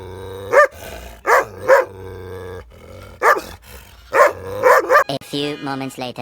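A German Shepherd barks aggressively in loud, repeated bursts, several sharp barks in quick clusters followed by a more continuous, growling stretch near the end.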